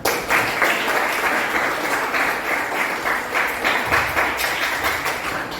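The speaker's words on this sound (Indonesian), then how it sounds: "Kita kasih aplaus untuk kalian semuanya." Audience applause at a school gathering in Medan, a dense, even clapping from many hands that holds steady throughout at close range.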